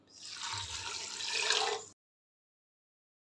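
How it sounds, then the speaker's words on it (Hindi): Water pours steadily into a metal pressure cooker holding black-eyed peas for about two seconds, rising slightly in pitch, then stops abruptly into silence. "इसी के साथ हम इसमें 1 लीटर पानी डाल देंगे।"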